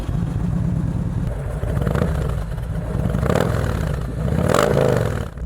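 A large, heavy Kawasaki motorcycle pulls away up close, with a low rumbling engine and rising revs under clattering and scraping noises.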